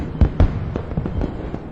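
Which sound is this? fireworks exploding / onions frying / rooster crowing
fireworks exploding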